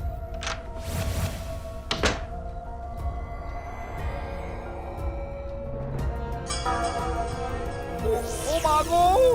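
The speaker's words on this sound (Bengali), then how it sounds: "আর আর আমাদের দরজা ধাক্কাও দিল" Banging and pushing on a house door at night, heard as a few dull thuds and knocks early on, followed by low rumbling, a rising tone and scattered rattling, fairly near and with no talk over it.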